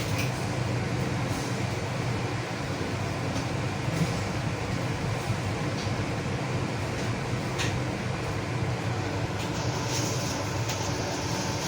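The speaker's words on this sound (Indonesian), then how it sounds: "sesuai jadwal kereta mulai meninggalkan stasiun Pasar Senen" Train leaving Pasar Senen station at night, heard from inside as a steady low rumble and hum of the carriage with faint rattles and clicks, continuous throughout with no talk.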